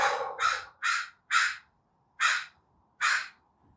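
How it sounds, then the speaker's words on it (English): Crows cawing outdoors near a workout spot, six loud harsh caws in an irregular sequence with short silent gaps between calls, close and clear with no talk. "Listen to the crows."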